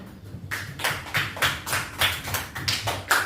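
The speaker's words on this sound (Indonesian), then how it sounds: "beri tepuk tangan dulu untuk teman" A classroom of students clapping for a classmate during a micro-teaching lesson, with rhythmic bursts of applause that repeat steadily through the whole stretch, fairly close and with no talking.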